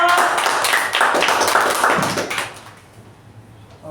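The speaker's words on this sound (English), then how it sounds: "Huge round of applause." Attendees at a Toastmasters meeting clap in a short, modest round that fades after about two and a half seconds into near quiet.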